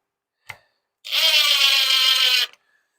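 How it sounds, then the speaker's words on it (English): A power drill drives screws into a 2x4: a faint click, then one steady whirring burst lasting about a second and a half before cutting off, close and alone. "That's a drill, though."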